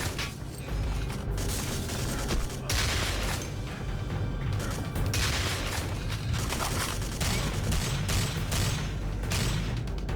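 Repeated shotgun blasts in a shooter video game, heavy booming shots every second or so over a dense, continuous layer of game noise and mechanical clatter.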